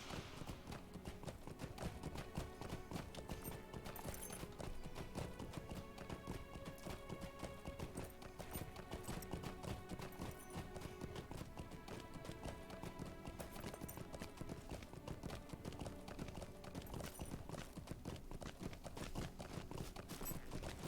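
Steady, rhythmic clip-clop of a war horse's galloping hooves runs continuously over a dense, busy video game soundtrack, with a brief whinny mixed in.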